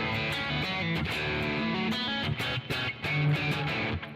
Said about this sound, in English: because if I put it on the bridge pickup, it'll sound like this.